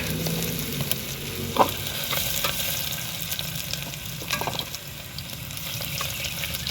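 Ginger sizzling as it fries in a pan, a steady crackling hiss with a few louder pops and stirring clatters, close by and without talk.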